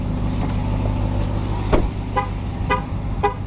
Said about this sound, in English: Don't honk at me.